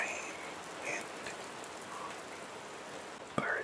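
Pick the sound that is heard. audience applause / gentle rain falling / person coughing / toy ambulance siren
gentle rain falling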